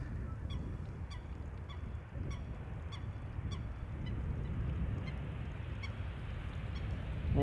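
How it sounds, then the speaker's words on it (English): Coots squabbling near Amsterdam Schiphol Airport, giving repeated sharp honking calls at a steady clip over a constant low rumble of airport background noise. "More coots bickering south of me."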